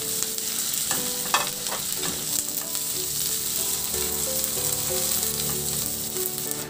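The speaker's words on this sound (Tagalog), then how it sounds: "Isunod ko na rin yung bawang. Ihalo lang din hanggang sa maluto." Chopped garlic and onion sauté in hot oil in a pan, a steady bright sizzle with occasional scraping stirs, close and continuous with no talking.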